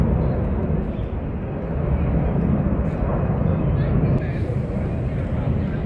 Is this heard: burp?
no